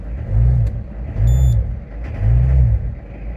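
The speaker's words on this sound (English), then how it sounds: "Get a bit of rev." A diesel car with glow plugs, running on vegetable cooking oil and misfiring, revs three times in a row, each a loud swelling roar that rises and falls, heard close and alone.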